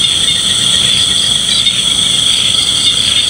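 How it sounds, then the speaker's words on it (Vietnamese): Crickets and frogs calling at night, a dense steady high-pitched chirring drone filling the background, loud and unbroken with no talking. "Mọi người có nghe tiếng dế với tiếng ếch á, tiếng ta ke nó kêu rạt ấy."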